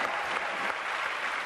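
Studio audience applause on a French television variety show, steady dense clapping filling the whole moment at an even level, with no voices standing out.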